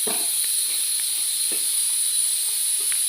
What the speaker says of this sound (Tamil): இது இப்படியே ஒரு 2 நிமிஷம் வதங்கட்டும்.